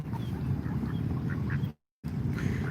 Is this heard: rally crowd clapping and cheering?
no